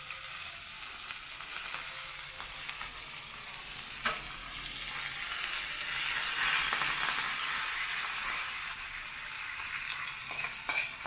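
Curry leaves and coriander crackle in hot oil with mustard seeds, urad dal and asafoetida for a tempering, a steady dense sizzle running throughout with occasional sharper pops and spoon stirs, close and fairly loud, no voices.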